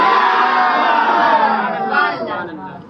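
A large crowd at a religious gathering shouts slogan responses in unison, a loud, dense roar of many voices that swells and then tapers off.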